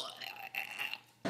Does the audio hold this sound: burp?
yes